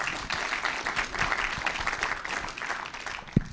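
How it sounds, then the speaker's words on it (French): A small audience at a literary book-prize event in Lausanne applauds after a reading, with moderate, steady clapping that carries on evenly before one louder thump near the end. "Je crois qu'on peut l'applaudir."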